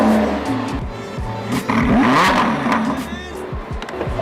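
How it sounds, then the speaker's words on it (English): A Lamborghini Huracan engine revs loudly up close, with sharp throttle blips and a rising growl, overlapping some background voices. "This car is super loud."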